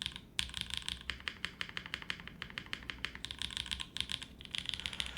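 Rapid typing on a Freya65 all-glass mechanical keyboard with an aluminum plate, 50A O-ring mount, lubed switches and GMK keycaps, close and steady with crisp clacks in quick bursts and brief pauses, no talking.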